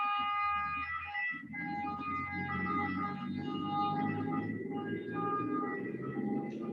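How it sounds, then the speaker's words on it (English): Ambulance siren sounding outside, a steady wailing tone with strong harmonic bands that holds for several seconds, fairly loud and continuous, with faint voices beneath. "Well, an ambulance, I think, is coming, or something is happening."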